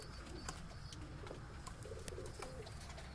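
High-flying pigeons in a breeding loft coo softly and repeatedly, low throaty calls close by against a faint, busy background.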